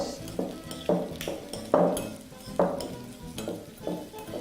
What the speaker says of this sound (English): all we're going to do with our mixture is give it a quick mix